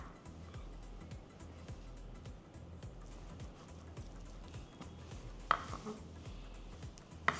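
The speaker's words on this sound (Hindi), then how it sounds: "फ्राई करने के लिए ना मुझे थोड़ा काटना पड़ेगा" Knife chopping veg liver fry on a cutting board, a steady run of soft thuds with a couple of sharper knocks near the end, over a low rumbling background.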